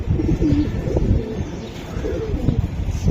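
A domestic pigeon coos close by in repeated low, throaty rolls, loud and steady for about three seconds.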